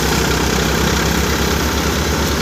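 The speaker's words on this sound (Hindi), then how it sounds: "740 चल रहा है सोनालिका थ्रेसर पे" A Sonalika 740 tractor of about 42 HP drives a thresher, its diesel engine pounding out a loud, steady low throb with constant machinery noise and no voices.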